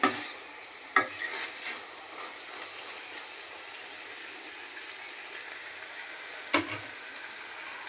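A spoon stirs tomato curry in a pan with a soft, steady sizzle underneath, punctuated by a few sharper scraping knocks against the pan.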